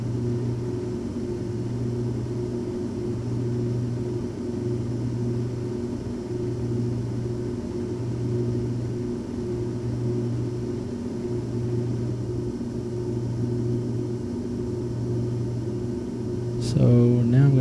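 Carenado B1900D turboprop in Flight Simulator X, a steady, even engine drone with a faint rhythmic pulsing that holds throughout as the aircraft turns, with a brief sharp click near the end.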